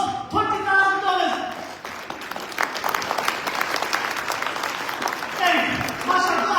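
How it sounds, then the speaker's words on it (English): Loud audience applause fills a fundraising event hall, sustained clapping from a crowd with brief voices cheering and speaking at the start and end. "One more big round of applause."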